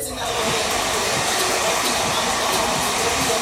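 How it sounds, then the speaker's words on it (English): A hair dryer blows with a steady, loud, broadband whoosh that holds constant from start to finish, close to the microphone, used while styling and dyeing a beard. "One more trick with the hair dryer."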